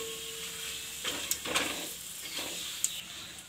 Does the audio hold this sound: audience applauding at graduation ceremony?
no